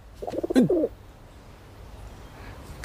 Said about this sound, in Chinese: 王爷，你在这儿还有鸽子呢。